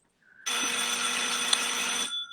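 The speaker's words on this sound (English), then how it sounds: "that's somebody ringing my bell" A doorbell rings in a home, one continuous electric ringing tone lasting about one and a half seconds, close and loud, with no talk over it.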